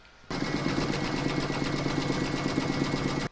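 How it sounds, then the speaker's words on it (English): An embroidery sewing machine stitches an in-the-hoop coaster, a steady fast mechanical chatter that starts abruptly and runs evenly at close range with no talking. "You're now going to pop that back into your machine and stitch round number 3"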